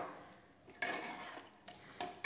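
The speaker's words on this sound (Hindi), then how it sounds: "इन सबको डालने के बाद एक बार हमें अच्छी तरह से चला लेना है।" A spoon stirs vegetable tahari with carrot and paneer in a metal pot, giving faint soft scraping broken by a few distinct clinks of utensil against the pot rim.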